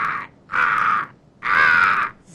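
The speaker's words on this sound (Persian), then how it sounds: "زهر ما رو قارقار" A crow cawing nearby, three loud harsh caws in a row with short pauses between them.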